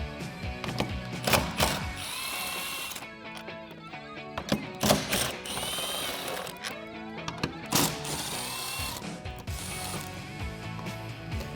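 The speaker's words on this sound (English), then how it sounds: "I'm going to use a 13mm socket in my impact wrench." Rapid buzzing and clattering of an impact wrench with a 13mm socket and small extension removing bolts on a Jeep Wrangler JL tailgate, close and continuous with short surges and metallic rattles throughout.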